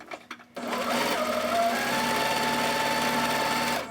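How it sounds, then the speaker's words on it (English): A sewing machine runs continuously while stitching batik fabric for placemats, a close, steady mechanical whir after a few brief clicks, then stopping near the end. "and then I'm going to sew."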